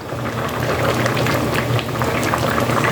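Sarson ka saag simmering in a pot on a low flame, a steady close bubbling and popping with soft crackles, continuous throughout with no talk.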